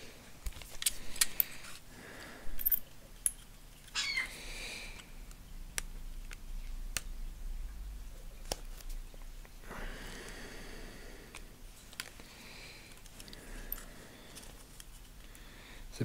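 A utility knife carefully slits the plastic wrap on a boxed Xenoblade Chronicles Definitive Edition Switch game, taking care not to damage the box; close, quiet scrapes, crinkles and small clicks come in scattered bursts.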